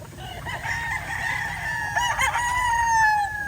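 A rooster crows loudly nearby amid a faint background of clucking chickens.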